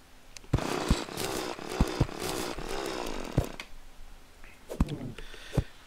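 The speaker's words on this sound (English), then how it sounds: "Drilling the bats is not good." Rough, raspy drilling noise from the video game Terraria, running steadily in the foreground with sharp clicks and thumps breaking through it, then cutting out near the end.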